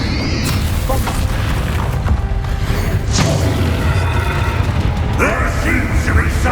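A Bombarda blasting spell explodes in Hogwarts Legacy with a heavy boom and crashing debris, amid busy combat noise and whooshing effects throughout.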